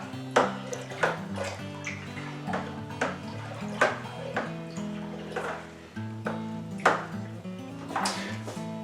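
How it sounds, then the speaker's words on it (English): Wine being stirred in a fermenter after an addition is poured in, giving a sequence of clinking, splashing liquid swirls with repeated sharp knocks, close and fairly quiet, no voices. "And we give it a little stir."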